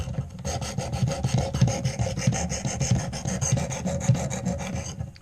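A knife is sharpened against a sharpening wheel with steady, rapid rasping strokes, close and fairly loud, with no voices.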